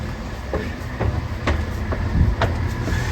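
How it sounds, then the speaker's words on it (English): A train at Bingham railway station in Nottinghamshire, its wheels clicking over rail joints in a steady clickety-clack with a low rumble, loud and close, no voices. "Complete with a train."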